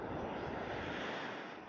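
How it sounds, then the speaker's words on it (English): Ocean surf on a beach during a walk, a steady broad wash of breaking waves that fills the whole clip at moderate level with no talk. "we do have a nice sound of the ocean today"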